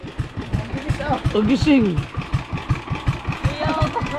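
A broken engine runs with a steady, fast low chugging pulse throughout, fairly close, while a person speaks over it and a baby's voice cries briefly.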